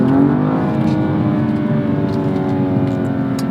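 A 2016 BMW M235i engine accelerating in sport mode, a loud, steady, close turbocharged drone with a gradually rising pitch through the whole stretch, heard alone.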